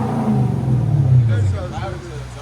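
A 2012 Lexus LS 460 4.6L V8 with Dynomax Bullets and a muffler delete hums at raised RPM with a low droning exhaust note that swells slightly then eases off, while people talk over it.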